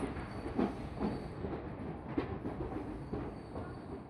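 A train running on the way to Chiplun, heard from inside, gives a steady rumbling roll with a regular rhythmic clatter from the wheels.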